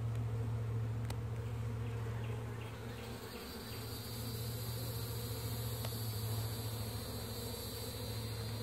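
A steady, dense buzz of many honey bees fills the air, humming continuously with a couple of faint clicks and no talking.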